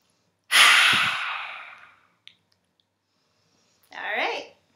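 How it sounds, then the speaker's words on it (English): Someone takes a long, deep inhale through the mouth during a breathing exercise. It starts loud and airy and fades over about a second and a half, and after a pause a shorter, softer breath follows. "Deep breath in."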